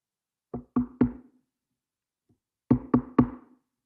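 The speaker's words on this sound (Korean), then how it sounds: "문을 두드리고 있어요" Knocking on a door in two clear sets of three sharp raps, each set crisp and close, separated by a pause of near silence.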